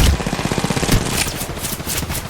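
Automatic weapon fire in Apex Legends Mobile, a fast steady burst of shots running through the whole moment at moderate loudness, with no talking over it.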